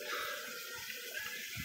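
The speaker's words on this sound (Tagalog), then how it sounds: "Ayun, may tubig." Water in the video game Minecraft, heard as a quiet, steady flowing and trickling with faint low gurgles and no talk.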